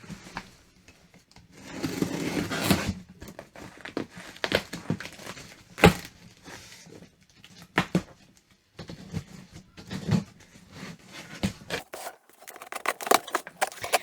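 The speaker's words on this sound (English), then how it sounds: "So I'm going to get my scissors to cut this box open and we'll have a look." Scissors cutting open a cardboard shipping box, with irregular scraping, snipping and crinkling bursts close up, separated by short pauses over about fourteen seconds.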